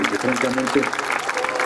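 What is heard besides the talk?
audience applause at a forum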